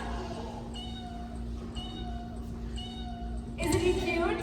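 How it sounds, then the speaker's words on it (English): A kitten meows in short repeated cries, several evenly spaced calls over a steady low hum, ending with a louder, more mixed burst; no one speaks during the calls. "Meow. What was that? That's my new kitty."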